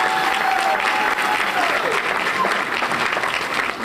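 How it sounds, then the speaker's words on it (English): A conference audience claps in a dense, sustained round of applause for nearly four seconds, steady and loud throughout with no one speaking. "Let's give her a round of applause."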